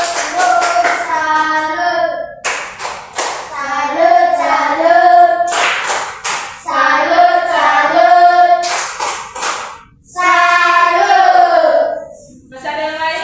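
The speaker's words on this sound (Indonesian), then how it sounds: "Tepuk tangan untuk Denti" Children in a fourth-grade maths class clap their hands in rhythmic bursts, with sharp claps punctuating a loud group chant. Young voices sing along in unison between the claps.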